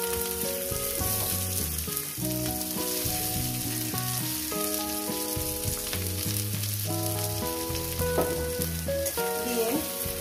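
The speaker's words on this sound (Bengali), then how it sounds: "তেল আমার গরম হয়ে গেছে। পেঁয়াজগুলো আমি দিয়ে দেবো।" Onions frying in hot oil in a kadai give a dense, steady sizzle, loud and close. An occasional stir and other kitchen sounds rise over it, and some tonal background noise runs throughout.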